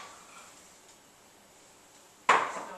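Minced Vidalia onion drops into a sauté pan of olive oil, a sudden hiss and sizzle after a quiet stretch, fading slightly but continuing.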